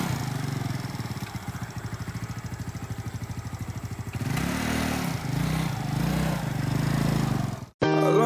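A motorbike ridden by Kak Opi chugs in a rapid, pulsing putter, then swells through several louder revs. The sound cuts off abruptly, and a different sound follows briefly.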